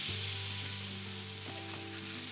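Burger patties sizzle steadily in a hot pan for a cheesesteak burger made by the smash-and-cook method, a loud continuous hiss with a low hum underneath and a couple of faint clicks, no talking.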